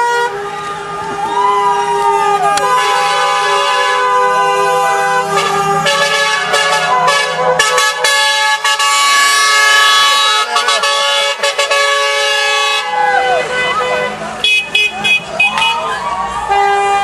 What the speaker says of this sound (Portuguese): A buzina pam pam pam.